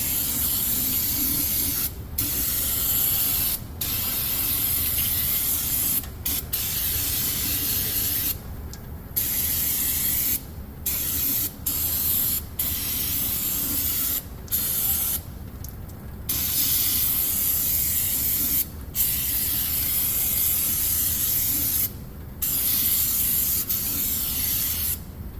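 Brake cleaner sprays in bursts onto the pinion gasket surface of a Ford F150, a loud, close hiss with short pauses between squirts.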